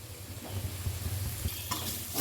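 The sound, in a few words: frying spice paste (masala) in a pan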